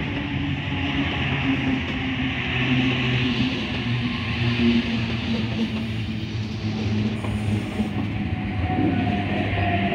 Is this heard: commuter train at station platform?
yes